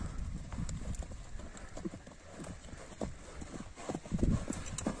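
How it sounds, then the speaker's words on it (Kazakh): Horses at a horse sale clip-clop on hard ground, a steady scatter of hoof strikes close by, with a louder burst of hooves near the end. "Бұлар жердегі Қаракөлдің командасындағы аттар екен туғандар"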